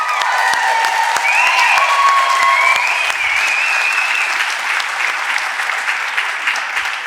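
A conference audience claps loudly and steadily for several seconds at a main session, with a few whistles or cheers in the first half, then the clapping thins slightly toward the end.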